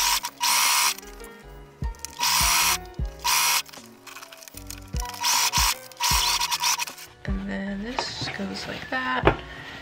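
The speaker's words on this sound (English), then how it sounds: "now I'm going to sew it" A sewing machine stitches a fabric shoulder bag in several short whirring runs separated by pauses, close by, with a person talking in between.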